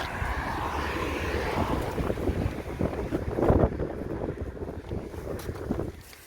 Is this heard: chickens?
no